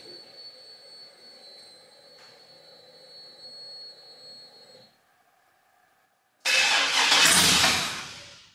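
A 1973 Chevrolet Nova with an LS engine swap and Holley Terminator X fuel injection sits quiet with faint background hum, then the engine cranks loudly and close in one burst that fades without starting.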